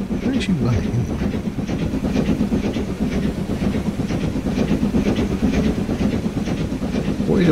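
A train rolls steadily through the Greater London map in Transport Fever 2, a continuous clickety-clack rumble with faint hiss throughout and a voice talking over it.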